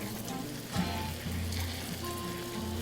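Chicken dropped into browned butter in a hot pan, sizzling and frying with a steady crackle and a brief louder burst as the meat hits, close and alone without talk.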